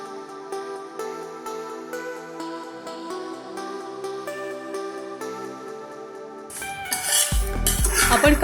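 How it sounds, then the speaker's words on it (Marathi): Poha chivda is stirred and tossed in a pan with the gas switched off. Soft music plays at first, then loud scraping and rattling clatter comes in near the end. "आपण काळजी घ्यायची आहे की पोह्यांचा जास्त चुरा नाही झाला पाहिजे आणि पोहे चांगले मिक्स झाले पाहिजेत।"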